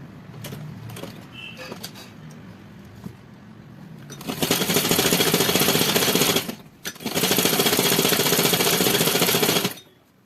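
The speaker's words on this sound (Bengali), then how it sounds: "এইভাবে আমি পুরো পায়ের নিচটাকে সেলাই করে নিচ্ছি।" A sewing machine stitches the hem of a straight trouser leg, running in two loud, fast-rattling bursts after a quieter stretch of handling sounds near the start.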